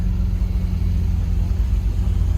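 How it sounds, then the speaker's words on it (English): A Koenigsegg CCX supercar on a Beverly Hills street gives off a steady, deep engine rumble that holds at a constant level throughout, with no talking. "It's a freaking Koenigsegg CCX"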